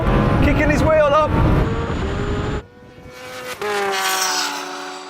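A Lamborghini Huracan Turbo drag racing a Kawasaki H2R motorcycle, with a loud engine roar that climbs in pitch through the gears, drops off, then surges again, while people talk excitedly over it.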